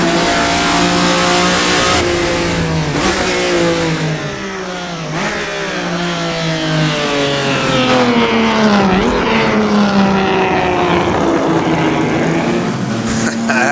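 Race car engine in Assetto Corsa, blasting through a town on the laser-scanned Targa Florio road course; a loud, continuous roar that climbs steadily in pitch through the gears, with brief dips at each upshift.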